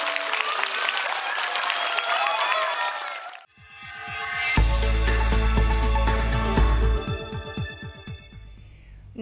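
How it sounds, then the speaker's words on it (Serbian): An audience breaks into applause, first a dense burst of clapping that fades, then after a brief gap a louder, sustained round of clapping that gradually thins out. "vaš aplauz će zvučati kako?"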